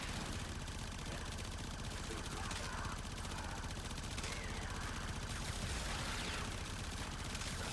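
Rapid automatic gunfire from a low-recoil weapon in the video game Warframe, a dense continuous stream of shots held down for the whole stretch, loud and steady with a busy game backdrop and a voice faintly underneath.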